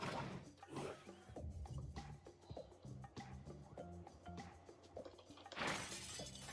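Glass breaking in Quantum Conundrum: a loud crash opens, tonal game music plays softly underneath, then a second bright burst of shattering glass lands near the end.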